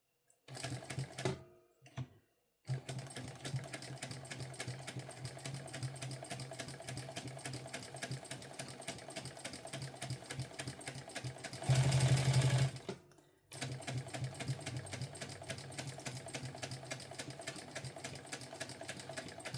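A home sewing machine top stitching a Pebble Sling Bag runs in a fast, steady mechanical whir with brief stops and restarts, heard close up and without talking.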